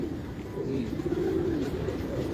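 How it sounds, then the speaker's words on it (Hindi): A steady chorus of low cooing from pigeons kept in a loft, several birds overlapping in a dense murmur that swells slightly midway, no talking heard. "देखें जरा कबूतर"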